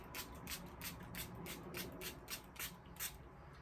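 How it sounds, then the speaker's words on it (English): A rapid string of soft, short spritzes from an e.l.f. Dewy Setting Spray bottle, about ten quick pumps in a row, faint and close. "I'm gonna set it real quick with my e.l.f. Dewy Setting Spray."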